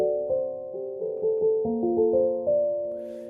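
Piano chords played through an Air Lo-Fi bit reduction plugin for a dark lo-fi beat on an MPC Live, a slow sequence of sustained chord changes with soft attacks, dull and muffled, with no voices.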